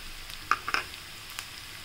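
Carrots and buttermilk upma mixture stirred in a pan, giving a quiet sizzle with a few short scraping clicks in under two seconds.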